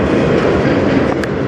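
A CN freight train rolls past on the Strathroy Subdivision, a loud, close, continuous rumble of wheels and cars with faint clatter throughout.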